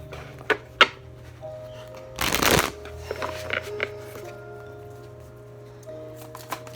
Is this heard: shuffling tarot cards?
yes